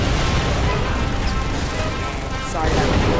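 Gunfire aimed at a truck in the video game Mercenaries 2, heard as dense, loud, continuous shooting and crashing impacts with a couple of sharper bursts.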